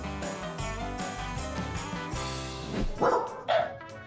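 Two sharp pit bull barks ring out near the end over music with a steady thumping beat.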